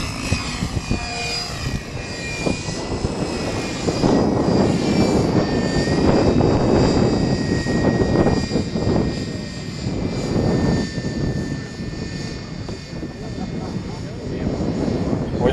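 An X-Cell Fury Ion radio-controlled helicopter flies and sets up for an autorotation at a 2003 RC flying event, its motor and rotor whine steady and fairly loud throughout, with crowd chatter and an announcer's voice underneath.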